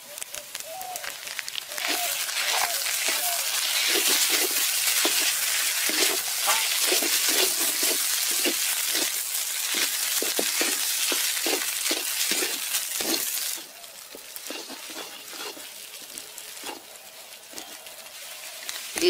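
Pieces of fish and spices fry loudly in a hot pan, then mashed boiled potato goes in and gets stirred, with a dense sizzle, repeated scraping strokes, and a quieter stretch of frying toward the end.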